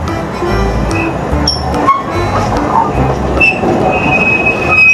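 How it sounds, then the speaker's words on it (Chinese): A small Alishan Forest Railway train passes close by, loud rumbling wheels and carriage clatter with sharp metallic squeals rising over the steady rail noise. "小火车来喽"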